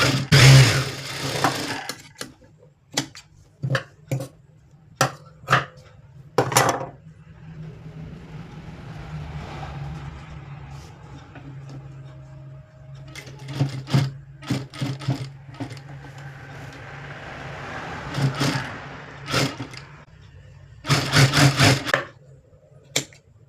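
A sewing machine stitching a blouse jacket, with a long steady whirring run in the middle broken by sharp clacks and knocks of handling the machine and fabric before and after, close and fairly loud.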